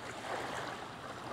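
Ocean waves at a seaside beach, a soft continuous wash of surf rolling in, distant and low, with no voices.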